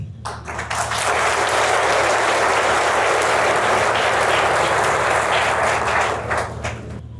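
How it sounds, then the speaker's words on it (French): An audience at a commemoration of the Gatumba tragedy bursts into loud, sustained applause that swells quickly, holds dense and steady over a low background hum, then tapers at the end. "je vous demande d'applaudir à l'honneur"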